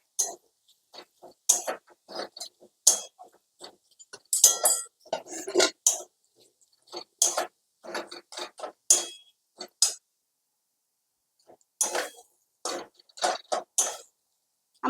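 Chicken kachori filling stirred in a pan, with scattered clinks and scrapes of a spoon against metal in short irregular bursts, close and moderately quiet, with brief pauses between strokes.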